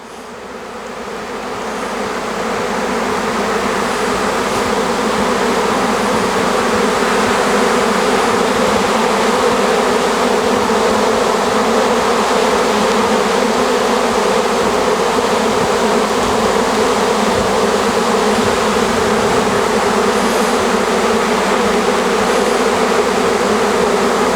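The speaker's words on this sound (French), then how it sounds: "On voit l'essaim qui est en train de se repositionner sur une branche du pommier là." A honeybee swarm settling onto an apple tree branch fills the air with a dense, steady buzz, loud and continuous from start to end with no voices.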